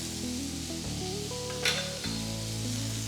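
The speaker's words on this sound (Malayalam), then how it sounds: "നന്നായിട്ടൊന്ന് സോട്ടേ ചെയ്യുക" Tomatoes sauté in a pan with a teaspoon of Kashmiri chilli powder for egg lababdar, giving a continuous, fairly loud sizzle. Sustained musical tones play underneath the whole time.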